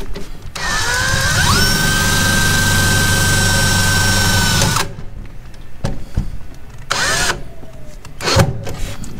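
A self-drilling screw is driven into thin sheet metal to fix a small ground wire, the power drill whining loud and steady for about four seconds, then stopping, with a couple of short bursts following.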